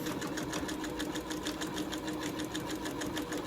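A domestic sewing machine back stitching while a drawstring backpack is sewn: close, fast, even mechanical whirring with a steady needle rhythm, running without pause.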